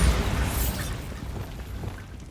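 Bombarda spell explosion in Hogwarts Legacy, a loud deep boom at the start decaying into a rumbling, debris-filled tail that fades over a couple of seconds, no talking.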